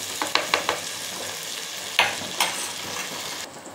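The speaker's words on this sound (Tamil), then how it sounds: "வெங்காயம், சுண்டைக்காய், பூண்டு, கருவேப்பிலை எல்லாம் போட்டு நல்லா வதங்கட்டும்." Onions, turkey berries, garlic and curry leaves sauté in a pan for kara kulambu, giving a steady close sizzle broken by several sharp stirring clinks and scrapes, with no talking.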